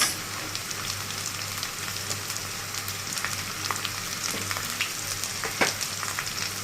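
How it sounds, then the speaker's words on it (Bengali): Garlic, onion and green chillies frying in a pan give a steady, close, even sizzle with occasional sharper crackles and faint stirring scrapes, no talking. "প্রথমেই অনেকগুলো রসুন দিয়ে নিয়েছি, পেঁয়াজ, রসুন, আর দিয়ে দিলাম কতগুলো কাঁচামরিচ"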